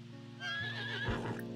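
A horse in The Sims 4 video game lets out a single close, clear neigh, a rising then falling whinny about a second long, with a brief thud of hooves near the end.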